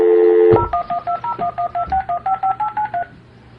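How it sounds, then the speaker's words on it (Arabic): Telephone keypad being dialed, a steady tone cut off and followed by about a dozen evenly spaced DTMF beeps in quick rhythm, loud and clear with no talking. "خالد الوصابي أنا معك على التليفون، ارفع التليفون."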